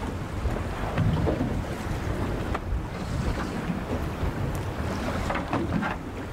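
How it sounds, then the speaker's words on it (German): Strong wind gusting over open sea off Sørøya, Norway, during halibut fishing from a boat, with steady broadband wind noise buffeting the microphone and a faint wash of waves underneath, continuous throughout. "Da der Wind nun wieder stärker wurde"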